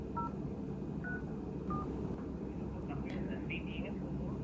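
A telephone keypad dials a landline number, giving a series of short, distinct beeps. The tones are spaced out over a steady background rumble.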